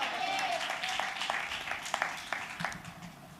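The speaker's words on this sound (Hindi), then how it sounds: "हाल तालियों से स्वागत करें खुदा का" A church congregation applauds during a Hindi sermon, a fairly faint, scattered run of hand claps under a lingering tone, with a preacher's voice mixed in.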